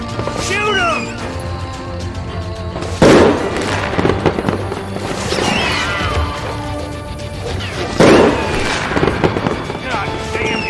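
Gunfire in the Western shooter game Call of Juarez Gunslinger: a few loud, sharp cracks spaced several seconds apart over a busy game soundtrack, with shouting voices mixed in.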